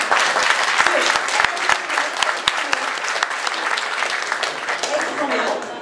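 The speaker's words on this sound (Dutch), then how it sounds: "Ja, dat is een applaus." Applause fills a council meeting as a motion is adopted: dense, steady clapping from many hands, close and loud, sustained for the whole stretch without a break.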